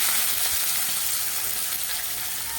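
Steady hiss of onion frying in hot oil with asafoetida, curry leaves and coriander, a continuous bright sizzle with faint stirring underneath, close and moderately loud.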